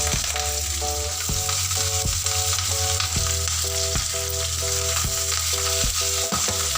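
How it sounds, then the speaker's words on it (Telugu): Green chillies frying with chana dal in an oiled pan, a steady close sizzle running throughout with regular light clinks of a spoon stirring against the pan. "శనగపప్పు వేగిన తర్వాత పచ్చిమిరపకాయలు వేసేసుకున్నామండి."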